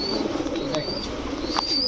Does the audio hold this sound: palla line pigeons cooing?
yes